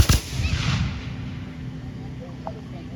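A musket volley fired by dragoon reenactors at an outdoor reenactment lands as one sharp, loud report, followed by a fading rumble and quiet ambience.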